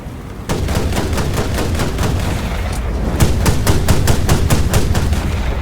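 A 20mm autocannon on an Sd Kfz 222 armoured car in War Thunder fires in loud, close bursts of evenly spaced sharp reports, a short pause splitting the volleys, with no voices over it.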